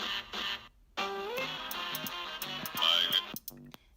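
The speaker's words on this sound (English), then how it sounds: "I really liked the horns and I used a lot of them, so I'll play you a sample" Chopped horn sample from a 1960s jazz blues record, with bright brassy stabs and phrases cut into short bursts across a loud four-second stretch, split by a brief gap near the start.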